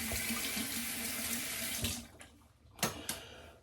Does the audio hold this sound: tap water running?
yes